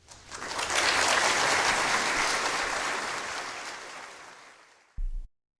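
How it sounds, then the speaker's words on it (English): Applause from an audience honoring London Bridge swells quickly into a dense, steady wash of clapping, holds for several seconds, then thins and fades, ending with a short low thump. "A little round of applause, please."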